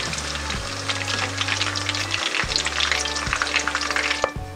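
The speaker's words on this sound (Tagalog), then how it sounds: "Dito sa ating ginamit kanina na mantika, ipiprito po natin muna itong ating beef" Beef fries in oil in a pan with a constant dense sizzle and crackle, close up, over a low background hum with no talking.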